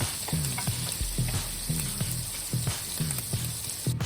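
Bacon-wrapped shrimp fry slowly in a pan on low heat, giving a steady close sizzle with regular soft stirring pops and scrapes repeating about every half second, with no talking.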